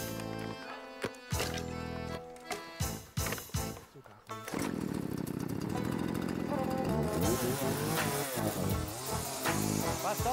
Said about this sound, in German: Mit den Kettensägen der beiden Cousins sollten die dürren Fichten schnell zu Brennholz werden.